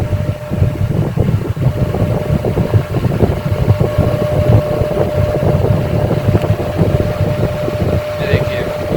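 Single-phase motor running at speed under a speed control card, a steady close mechanical hum with a constant tonal whine and fluttering airflow noise throughout.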